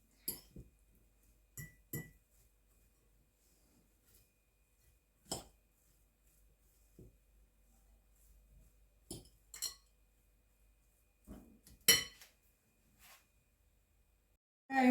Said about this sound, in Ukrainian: І так все спочатку виделкою поєднаю.